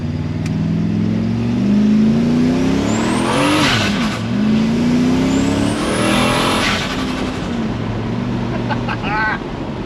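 A freshly tuned ute engine revs loudly and close, rising and falling through several throttle blips over a steady idle, with someone talking briefly over it.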